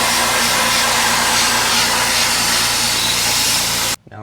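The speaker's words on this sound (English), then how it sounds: "first we're going to blow on the distributor to get some debris off so it's easier to get out" Steady, loud rush of compressed air blowing debris off the distributor of a Ford Y-Block V8 in a Fairlane, running continuously and cutting off abruptly at the end.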